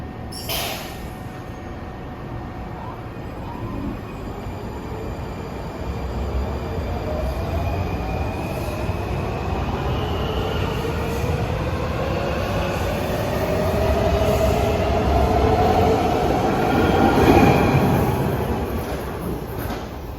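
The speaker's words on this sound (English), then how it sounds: "we see a set of Bredas taking off" A set of Breda Washington Metro railcars pulls away from a station, a loud continuous rumble of wheels on track with rising squeals and whines as the train gathers speed, building toward the end.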